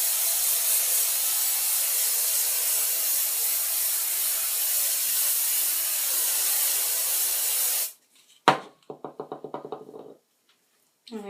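Hairspray hisses from an aerosol can onto hair in one long continuous spray of about eight seconds, close and loud, followed by a few quiet knocks and handling sounds.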